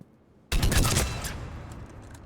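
A three-round burst rifle fires in the video game Mass Effect 3: a sudden loud cluster of rapid shots that runs into a trailing rattle and echo, close and alone.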